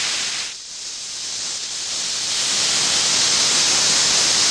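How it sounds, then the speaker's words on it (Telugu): A pressure cooker lets off a steady, loud hiss of steam that fills the clip, dipping briefly near the start and then building to a strong, continuous rush with no voices over it. "కుక్కర్ కోతుకొస్తే వాడిని నేనేం చేయను."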